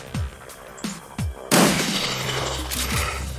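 Gunfire from the video game Shadowrun Returns: several sharp, separate shots come first, then a loud sustained burst of firing that keeps going to the end.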